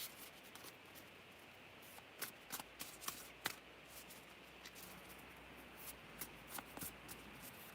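A deck of tarot cards is shuffled by hand, a soft continuous riffling with sharper snaps and flicks scattered through, faint and close over a quiet background hiss.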